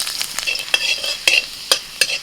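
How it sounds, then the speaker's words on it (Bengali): Chopped garlic hitting a little hot oil in a wok, a close sizzle broken by four or five sharp scraping stirs of a spatula. "কড়াইতে সামান্য একটু তেল দিয়ে ওর মধ্যে দিয়ে দিচ্ছি রসুন কুচি"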